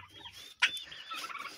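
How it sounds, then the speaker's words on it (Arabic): A turkey gobbles sharply in a quick rattling burst, followed by more chattering fowl calls nearby. "نبتدي الأول بديوك الرومي."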